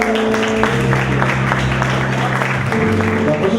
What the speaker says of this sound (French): Tout le monde, on applaudit